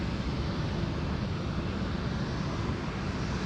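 A Singapore Airlines airliner taxis at Sydney Airport, a steady broad engine rumble and hiss heard from a distance, unbroken and fairly faint.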